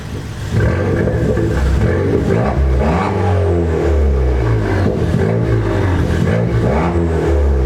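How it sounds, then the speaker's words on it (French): An ST car with a dump valve fitted is revved in short, repeated throttle blips, producing a loud, close engine roar that rises and falls continuously without a break. "on va mettre des petits coups de gaz"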